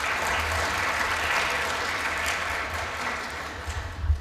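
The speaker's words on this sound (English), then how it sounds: "please, a round of applause for our distinguished speakers" Audience at a World Petroleum Council youth forum applauds its speakers, a full steady round of clapping across a hall that stays even before thinning toward the end.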